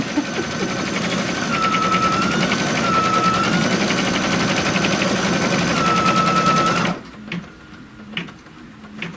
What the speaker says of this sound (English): I'm just going to go ahead and stitch the placement line and tack down for our canopy.